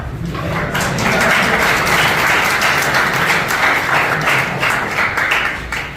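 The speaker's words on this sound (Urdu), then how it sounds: "میں ایسا ہی انتظار کر رہا تھا تالیاں کا." Sustained applause from a lecture audience, steady and fairly loud, with many hands clapping together for several seconds.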